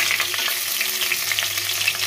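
Eggplant (brinjal) slices fry in a pan with a loud, continuous sizzle and crackle, broken by scattered stirring scrapes.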